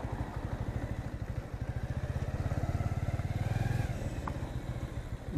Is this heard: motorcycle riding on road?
yes